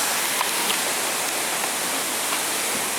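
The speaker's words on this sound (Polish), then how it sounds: "Rzeka, rzeka, rzeka jest rzeka." A river rushes by in a loud, steady, broadband hiss of flowing water, continuous and unbroken from start to end with no voices.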